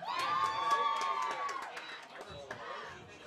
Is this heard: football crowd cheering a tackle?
yes